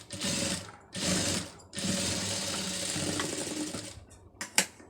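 A sewing machine stitches a seam in fabric, buzzing in three close runs with brief stops between, followed by a few sharp mechanical clicks.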